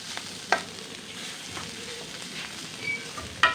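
Bitter gourd fries in a pan with a close, continuous sizzle, broken by a couple of brief scraping knocks from stirring.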